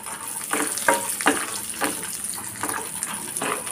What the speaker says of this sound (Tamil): நெய்யிலே நல்லா வறுத்து எடுத்துக்கலாம்.